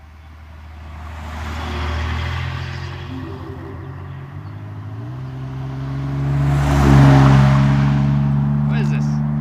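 A pickup truck drives past on a rural road in the middle of nowhere in Arkansas, its engine rumble swelling as it nears and peaking loud at close range before easing, with a voice speaking over it.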